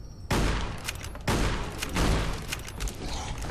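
Gunfire in the video game Fallout: New Vegas, loud sharp shots in a quick burst with a couple of heavy blasts and rattling follow-up fire, no talk over it.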